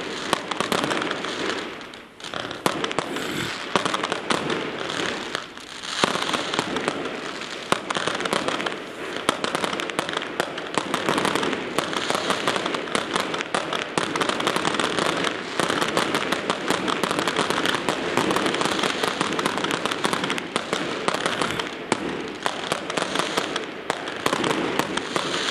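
A fireworks display crackles and pops continuously with dense, rapid bursts at a fairly loud, steady level and little speech.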